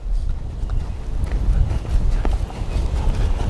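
A ridden horse's hooves clip-clop on the ground of an open riding area in a steady, close rhythm, with someone talking over the footfalls.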